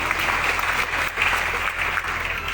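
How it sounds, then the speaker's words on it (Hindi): Loud applause from a large crowd at a cultural festival in Madhubani, Bihar, given for the audience's parents; continuous, full clapping that swells and dips slightly but never stops. "तो मैं चाहता हूं एक बार अपने अपने माता पिता के लिए जोरदार तालियां"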